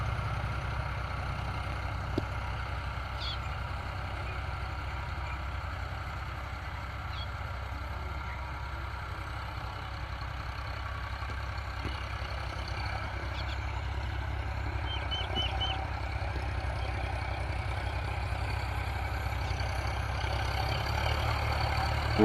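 A tractor engine idles steadily for a long stretch, a low continuous rumble with no change in pace and no talking, after carbon buildup on its pistons.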